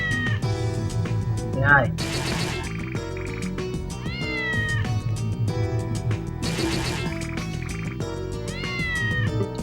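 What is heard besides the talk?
cat meowing on stream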